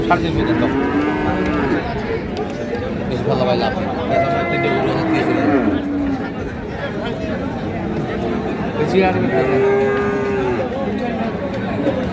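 Cattle at a crowded village livestock market moo repeatedly, several drawn-out calls near and farther off, over constant chatter and crowd babble.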